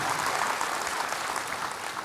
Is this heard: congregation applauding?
yes